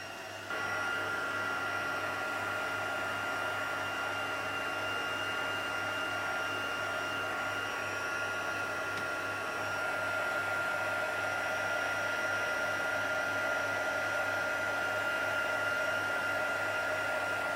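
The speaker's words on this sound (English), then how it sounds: "I'm going to hit it with the heat tool just to quickly give it a quick dry." A heat tool blows hot air to dry a craft project, giving off a loud, continuous, even whoosh that runs close and steady without a break from start to finish.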